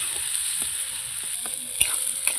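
Spice paste being sautéed in a pan for a fish curry, with a steady high sizzle of frying oil throughout and occasional scraping knocks of a spatula stirring against the pan, close and clear.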